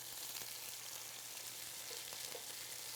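Glazed salmon sizzles faintly and steadily in a pan, a soft continuous hiss with a few light clicks and no voices.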